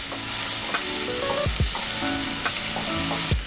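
Red onion sizzling in a pan for vegan sriracha ramen, a steady bright frying hiss with a few dull scrapes and knocks as a utensil stirs it, close and without speech.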